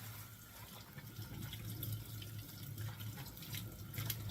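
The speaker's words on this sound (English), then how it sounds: "So I'm just going to rinse this off." Tap water runs steadily into a sink as an ingredient for pork and hominy pozole stew is rinsed under it, a soft continuous splashing hiss with faint drips, fairly quiet and with no talk.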